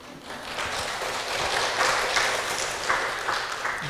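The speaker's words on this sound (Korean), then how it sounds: "우리 여자분들이 받아야 될 박수입니다." Church congregation applauding the women at a Sunday worship service, a broad wash of clapping that swells and holds steady through the room with no voices over it.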